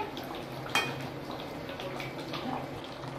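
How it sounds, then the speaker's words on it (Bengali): A spoon stirs minced meat in a cooking pot, with a sharp metallic clink near the start followed by soft scraping and low simmering bubbles, close and quiet, with no talk. "এবার ভালো করে নেড়ে নিচ্ছি"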